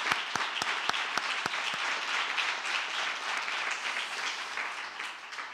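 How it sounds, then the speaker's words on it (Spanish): An audience at a Lyme disease conference closing session gives the volunteer translators a strong, sustained round of applause, starting with a few sharp, distinct claps before settling into a dense, even roar of clapping. "un fuerte aplauso para ellos"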